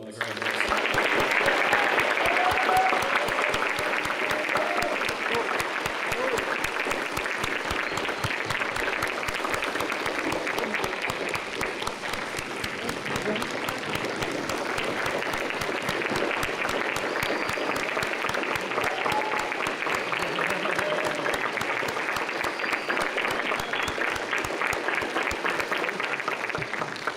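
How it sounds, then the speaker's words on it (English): A commencement ceremony crowd at a preparatory academy applauds the graduates in long, even, sustained clapping that carries on at steady strength for nearly half a minute, with some faint cheers mixed in. "How about let's give another round of applause for the graduates."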